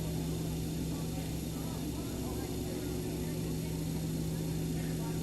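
Steady droning aircraft engine at takeoff power in Microsoft Flight Simulator 2020, departing Walvis Bay Airport, Namibia; a constant humming roar with fixed tonal whine, unchanging throughout, with a voice talking over it.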